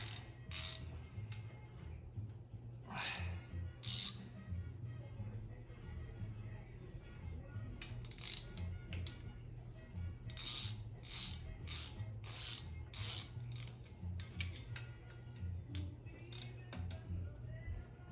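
A ratchet wrench works on a Chevrolet 4.8 LS V8 engine being fitted to a 1963 Impala, giving irregular bursts of clicking in a garage with a steady low hum, and a voice speaks now and then.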